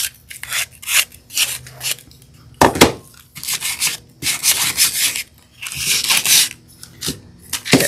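Hand sanding along the edges of painted wood, a steady series of rasping strokes in bursts with brief pauses between, close and fairly loud with no talking.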